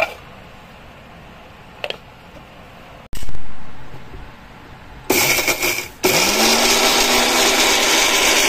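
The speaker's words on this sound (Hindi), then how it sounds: "देखिए ये भुना हुआ मसाला है हमारा, इसको अब मैं पीसूंगी" A kitchen mixer grinder whirs loudly with roasted garam masala spices, starting after a few quiet clicks and knocks, pausing briefly, then running again in a steady, loud whir.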